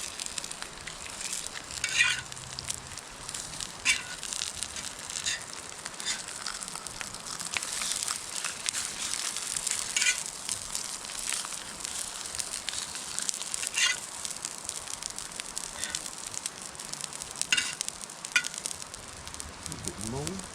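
Corn tortillas fry in grease in a pan at a campsite, a steady crackling sizzle running throughout with occasional brighter pops and spatters, close and fairly loud.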